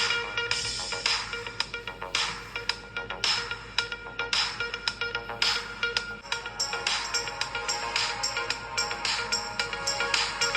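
Tinny, bright music plays from a small Hammer Fit Plus smartwatch speaker, rhythmic beats pulsing steadily throughout with no voices.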